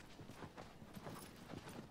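Hooves of a horse in the video game Shadow of the Colossus clip-clop steadily at a trot, a quiet, even run of soft thuds over a constant background hiss.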